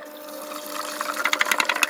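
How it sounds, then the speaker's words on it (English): Water is poured into a jellyfish aquarium, starting as a soft steady trickle and building into louder splashing gurgles toward the end, close by with no voices. "So now the first thing we're going to very carefully pour this water back in."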